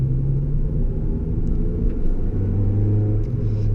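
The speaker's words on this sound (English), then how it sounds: "The supercharger whine is there." Inside a moving supercharged Toyota Yaris GRMN hatchback, a steady, loud engine drone fills the cabin with a sustained tonal hum riding over road rumble, holding even as the car drives on.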